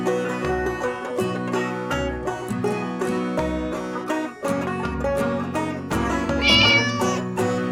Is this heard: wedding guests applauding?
no